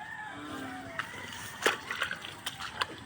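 Floodwater keeps flowing through a flooded rural area, with nearby splashing and sloshing that comes in irregular bursts over a continuous watery wash. A voice talks over parts of it.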